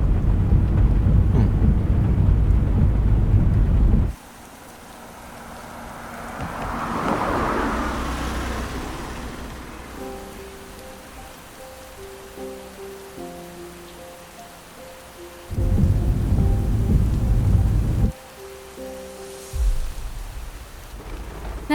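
Heavy rain pours in loud, hissing bursts that cut in and out, with a low rumble of thunder rising in a quieter middle stretch where soft tonal sounds play.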